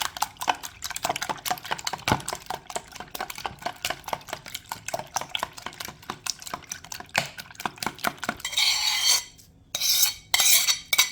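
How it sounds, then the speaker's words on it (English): Eggs whisked in a bowl for a Jamaican black rum fruit cake batter, a fast rapid clicking of the whisk against the bowl, close and loud, ending with a few harsher scraping bursts, without any talking. "So you want to whisk your egg."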